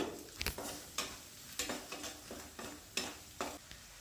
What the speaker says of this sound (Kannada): ಈಗ ರುಚಿಗೆ ತಕ್ಕಷ್ಟು ಉಪ್ಪನ್ನ ಹಾಕ್ಕೊಂಡು ಅರ್ಧ ಸ್ಪೂನಷ್ಟು ಅರಿಶಿನ ಪುಡಿ ಹಾಕಿ ಎಲ್ಲ ಮಿಕ್ಸ್ ಮಾಡ್ಕೊತಾ ಇದ್ದೀನಿ